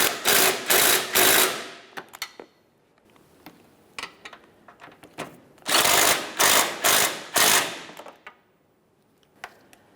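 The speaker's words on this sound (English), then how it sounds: "continue on with tightening your 12mm headed bolts" A ratchet tightens 12mm headed bolts on the bumper of a 1994–1997 Honda Accord, close and loud, in two bursts of rapid clicking with quieter taps and clicks between them.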